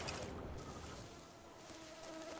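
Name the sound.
mosquitoes buzzing in the video game The Witcher 3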